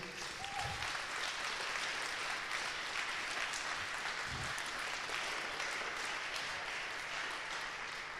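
Crowd at a Garage48 wood hackathon final gives a steady, fairly faint round of applause for the mentors, an even wash of clapping with a couple of low thumps.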